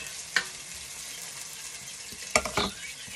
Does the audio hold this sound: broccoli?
yes